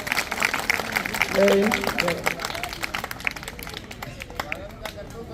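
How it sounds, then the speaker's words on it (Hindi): At a school retirement-day gathering, children clap to welcome a guest with scattered, uneven applause from a group that swells briefly and then thins. Background chatter and a nearby voice run through it. "मैं बच्चों से कहूँगा ताली बजाकर उनका स्वागत करें"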